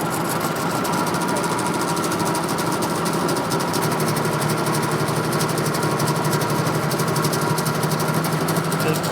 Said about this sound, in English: The engine's pulling down a little bit.